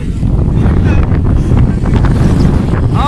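Strong wind at Jariel's Peak in Infanta, Philippines, roars and buffets the microphone continuously, a loud dense rumble with gusty fluctuations throughout.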